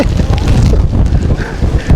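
Strong wind buffets the microphone on a mountain in Tak, Thailand, a loud continuous low rumble and roar filling the whole short stretch with no voices.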